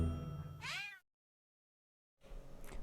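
A cat meows once, a clear rising and falling call up close over low background noise, followed by silence and then a brief stretch of faint sound.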